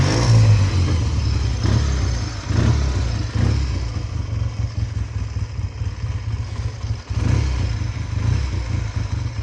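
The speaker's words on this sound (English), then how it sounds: "Let's give it a little bit of throttle." A 1962 Triumph T90 motorcycle engine runs steadily up close, its throttle blipped to produce rising revs over a continuous loud, rough drone with some mechanical clatter.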